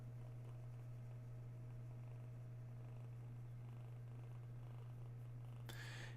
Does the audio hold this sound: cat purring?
yes